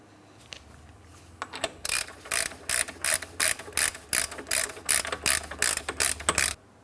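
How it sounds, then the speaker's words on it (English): Hand ratchet clicking as a front hub nut is tightened on a 2004-2008 Pontiac Grand Prix, a steady run of about a dozen sharp, close ratcheting bursts in quick rhythm over faint background hum. "Now to tighten this, I'm going to be using a hand tool."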